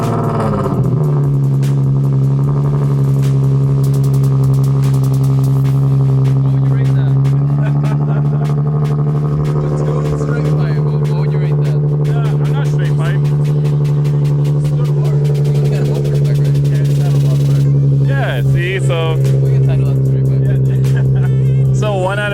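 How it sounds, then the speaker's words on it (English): A car engine starts cold and holds a loud, steady high idle with a strong low drone, rising briefly near the end as it revs. Voices and outdoor noise sit in the background. "Cold start for me,"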